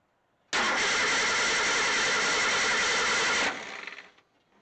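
The starter of a 1963 Ford Econoline pickup cranks loudly and steadily for about three seconds, then stops, leaving a brief fading rattle; the engine does not clearly catch.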